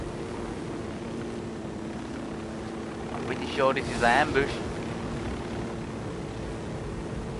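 A helicopter flying in Ghost Recon Wildlands, a steady droning rotor and wind rush holding throughout, with someone talking briefly over it midway.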